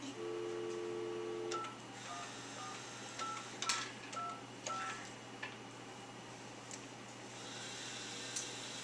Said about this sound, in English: So I'm going to call the number.